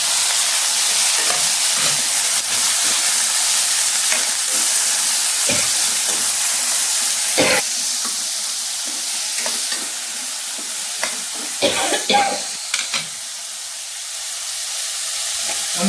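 Chopped chow chow and green chilies sizzle and hiss steadily in a hot pan, close and loud, with scattered clinks and scrapes from stirring and no talk.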